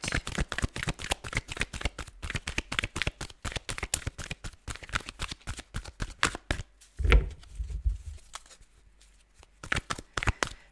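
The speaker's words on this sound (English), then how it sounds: "I'm trying to force a card out of a deck" A deck of playing cards being shuffled, a long run of quick, crisp riffling flicks in steady rhythm, close and clear, briefly broken by a dull knock before the snapping resumes.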